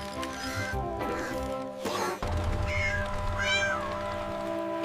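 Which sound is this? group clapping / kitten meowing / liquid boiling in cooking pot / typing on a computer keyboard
kitten meowing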